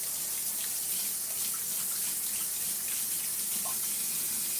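Tap water runs steadily into a sink while sweet potato juice is rinsed off a pair of hands, a continuous close splashing rush with no talking.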